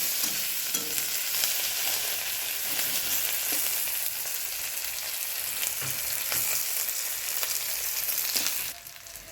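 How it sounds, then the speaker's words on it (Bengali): Chopped onion frying in oil for a rohu fish kalia, a steady close sizzle with occasional stirring scrapes that drops off abruptly near the end, with no voices. "পেঁয়াজ কুচিটাকে লাল লাল করে ভাজা হবে"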